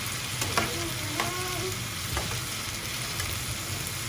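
A large chopped onion frying with potatoes in a pan for a Spanish omelette, a steady hiss of sizzling oil with a few spoon taps and scrapes, no one speaking.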